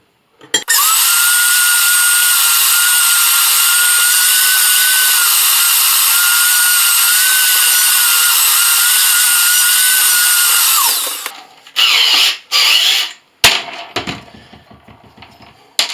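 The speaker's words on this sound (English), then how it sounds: "I'm going to screw this down into the floor" Power drill driving screws through a damaged toilet flange into the floor: one loud, steady whine for about ten seconds, then a few short bursts as it finishes.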